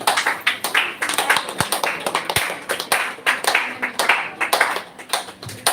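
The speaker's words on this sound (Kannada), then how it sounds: "ಜೋರಾಗಿ ಕೈ ಚಪ್ಪಾಳೆ ಬರಬೇಕು ಇವರಿಗೋಸ್ಕರ." An audience at a prize-giving event claps for a winner, a sustained patter of many hands, fairly close and lively throughout.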